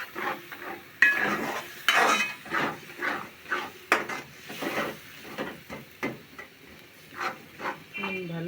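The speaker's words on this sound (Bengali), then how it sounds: "এখন আমি কষায় নেব" Omelette curry masala sautéed in a pan, with steady scraping and stirring of a spoon against the pan and a soft sizzle underneath, continuing without pause.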